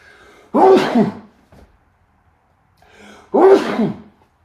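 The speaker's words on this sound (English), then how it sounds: "Sorry, quick sneeze here." Two loud sneezes close by, each with a sharp intake of breath before, separated by a few seconds of quiet.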